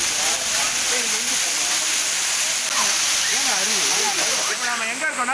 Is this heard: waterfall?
yes